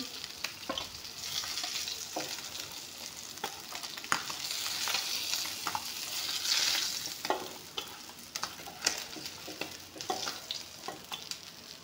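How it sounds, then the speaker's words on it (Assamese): Fish frying in a pan makes a steady close sizzle throughout, with occasional scrapes and taps of stirring and no voices. "এতিয়া মাছখিনি এফাল সিজিবলৈ দি দিছোঁ।"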